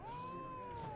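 A cat meows in The Witcher 3, one drawn-out, rising-then-falling cry that is loud and close and fills the whole moment, with no talk over it.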